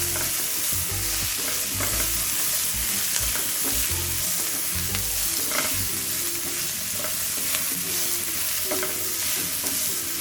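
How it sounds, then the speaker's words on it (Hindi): Zucchini with green and red capsicum stir-frying in a pan, a loud, dense, continuous sizzle with a steady stirring scrape throughout, close up and with no talking. "इसी पैन में हम वेजिटेबल स्टर करेंगे। सबसे पहले हम लेंगे zucchini, green capsicum, red capsicum तो हम स्टर करेंगे।"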